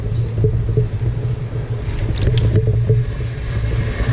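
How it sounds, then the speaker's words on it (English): Car traffic rumbles steadily through the old city streets of Gela, Sicily, with continuous engine noise from passing vehicles and occasional brief higher clatters, fairly loud and close throughout. "There are now a lot of traffic and the cars"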